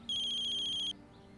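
An electronic telephone ringtone chirps in a fast, steady trill for nearly a second, clear and fairly loud, then stops, leaving a quiet room hum.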